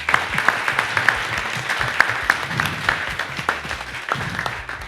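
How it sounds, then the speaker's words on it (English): A local audience at a Celina candidate forum gives the candidates a round of applause, with dense overlapping hand claps and a few louder individual claps standing out, sustained throughout with no talk over it. "How about a round of applause for all of our candidates?"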